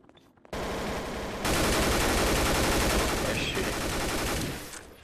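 Sustained rapid gunfire from Garry's Mod Trouble in Terrorist Town, starting abruptly and growing louder, a dense continuous burst lasting several seconds before tapering off at the end.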